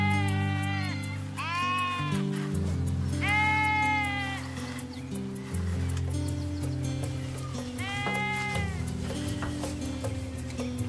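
Repeated loud goat bleats, close by, in several bursts over a steady low background hum, with no talking.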